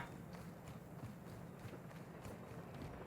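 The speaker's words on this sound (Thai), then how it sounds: "ได้ยินเสียงเท้า" Footsteps of an enemy player in Call of Duty Warzone 2.0, a faint, steady patter of quick steps repeating under continuous low game ambience, with no voices.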